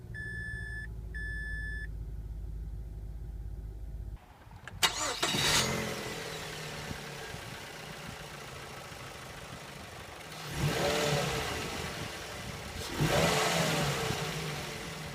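Chimes ring over a low idle, then a Mazda 3 engine cranks and catches loudly, settling into a steady run with two swells as the car pulls away and accelerates.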